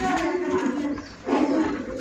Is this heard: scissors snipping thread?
no